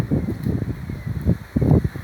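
Strong wind buffeting outdoors at a pigeon release, coming in rough low gusts that rise and fall in bursts, loud and close against the microphone.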